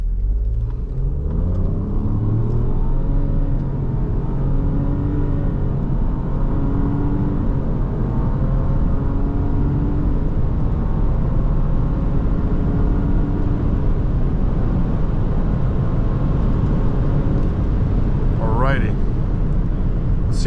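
A 2024 Nissan Rogue S with all-wheel drive accelerates hard from idle to 60 mph, its engine droning steadily upward in pitch with shifting harmonics under constant road and cabin rumble, heard from inside the car.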